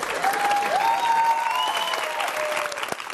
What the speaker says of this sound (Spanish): Quiero un fuerte aplauso para el Esmirrio.